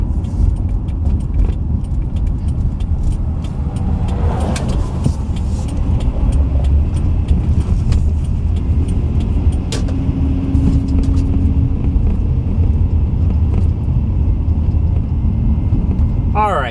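A 2000 Dodge Intrepid ES with a 3.2 liter engine drives along, a steady loud low cabin rumble of road and engine noise with light rattles throughout.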